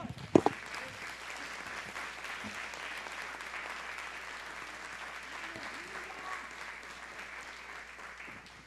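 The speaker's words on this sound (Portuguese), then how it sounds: "vamos aplaudir o Senhor" A church congregation applauds the Lord during a Portuguese-language worship meeting, a soft, distant, sustained patter of clapping after a sharp knock at the start, with faint voices beneath it.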